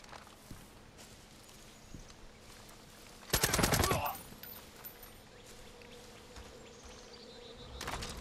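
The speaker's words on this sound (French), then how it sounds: "Je voulais vous montrer ça, ouais, les abeilles là. Ça marche super bien sur les ennemis." A swarm of bees attacks enemies in the video game Far Cry 5, heard as a sudden dense buzzing burst lasting under a second amid quiet game ambience, with faint scattered clicks and a later low rise.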